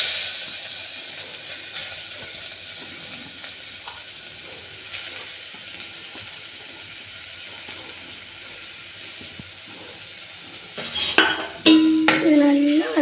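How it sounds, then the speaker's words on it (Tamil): Carrots sautéing in ghee for carrot halwa, a quiet continuous sizzle with faint stirring for most of the stretch, then louder clattering pan handling near the end. "இப்போ கேரட் அதே நெய்யில் போட்டு நல்லா வதக்கி எடுத்துக்கலாம்."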